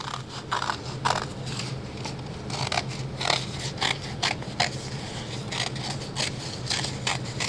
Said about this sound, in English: you're just going to cut along this black line